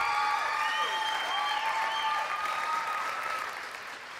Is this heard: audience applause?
yes